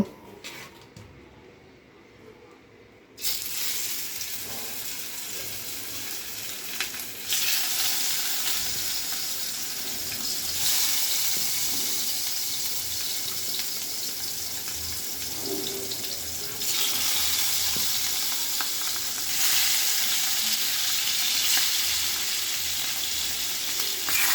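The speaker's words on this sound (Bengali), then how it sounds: "মাছ আমি এক চুলায় ভেজে নিচ্ছি" Hilsa fish coated in turmeric and chili fry in a pan on the stove, a steady loud sizzle that rises and shifts in intensity over time, heard close with no voices.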